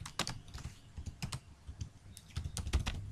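Quick bursts of keystrokes on a computer keyboard, close and fairly quiet, in uneven clusters with short pauses between them and no voices.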